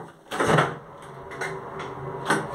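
A pre-war Otis elevator, modernized by Zremb, in a Łódź building: its door springs open with a sharp mechanical clack, followed by a few lighter knocks and rattles at close range, with no talk.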